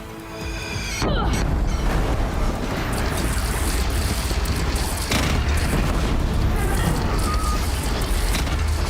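Heavy bombardment in Horizon Zero Dawn: a sudden loud blast at the start, then continuous rumbling debris and crackling, with another impact midway, dense and close throughout.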